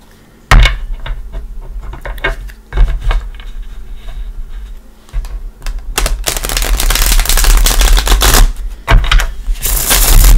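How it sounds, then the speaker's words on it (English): Tarot cards are riffled and shuffled close up in loud, crisp rapid flutters that build into dense bursts of snapping card noise. "Everything is already pre-shuffled, by the way, but I like to give it a shuffle with you here."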